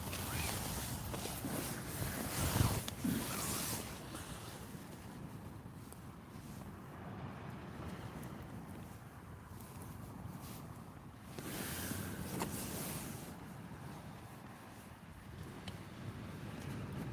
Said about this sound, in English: Wind's got right up.